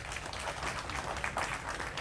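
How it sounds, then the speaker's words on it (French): Applause from an audience at an inauguration ceremony for a multipurpose hall, a dense, steady patter of clapping throughout the short stretch, moderately loud and fairly close. "Applaudissez très fort."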